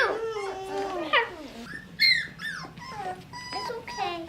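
Several big puppies whimper and yip close by in high, wavering cries, overlapping in quick bursts with short gaps.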